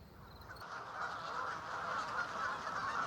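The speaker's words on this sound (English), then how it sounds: "Another conflict with nature is the incredible number of Canada geese that have invaded the grounds and ponds of Craig Bay." Canada geese on the grounds and ponds of Craig Bay give a few soft honks, quiet and somewhat distant, over a low outdoor background.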